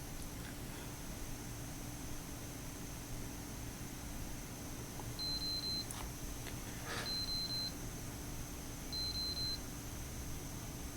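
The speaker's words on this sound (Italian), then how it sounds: "l'orologio emette 3 serie di bip e l'indicazione del tempo di profondità inizia a lampeggiare" A Cressi Nepto dive computer sounds its depth-time alarm as three short, evenly spaced series of high electronic beeps over a steady hiss of background noise.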